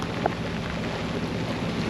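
Steady rain falling around a sailing boat at sea, a soft, even hiss with low rumbling wind beneath, constant and unbroken for the whole stretch.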